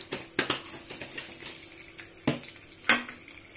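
Mustard seeds and cumin sizzling in hot oil for Punjabi chole, a faint crackle broken by sharp popping spurts and spoon-against-pan clinks, with no talking.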